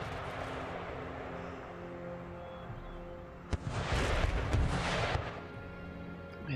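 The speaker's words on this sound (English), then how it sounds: "Keep the artillery firing because they're all going to be focusing on the mortars." Artillery fires in Empire: Total War, a sharp crack followed by a dense rumbling roar of several booms over a low battlefield background, with one more shot at the end.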